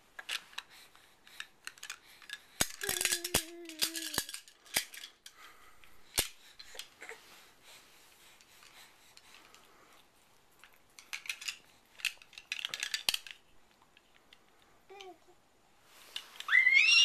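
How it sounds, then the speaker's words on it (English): A baby playing on a bed handles a set of keys, producing bursts of light metallic jingling and clicking scattered through the clip, close by, with brief baby vocal sounds in between. "You're holding on to your keys."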